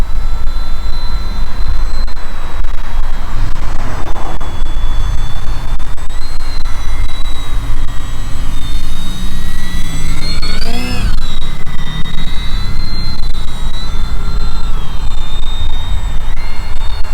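A small aircraft's engine runs at 10% throttle with the flaps down, making a loud, constant drone with a high whine that swells briefly near the middle. Nobody speaks.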